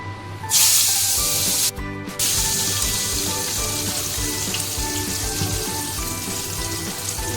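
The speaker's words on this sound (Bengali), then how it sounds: "গরম হয়ে গেছে এবার মাছটা দিয়ে দেবো" Singi (stinging catfish) dropped into hot oil gives a loud burst of spitting hiss, then settles into a steady, close frying sizzle that runs to the end.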